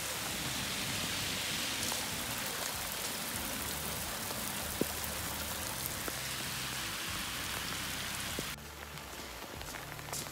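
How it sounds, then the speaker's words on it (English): Heavy storm rain pours down steadily in a dense hiss, with scattered drips and splashes close by and a brief drop in intensity near the end. "here is the rain."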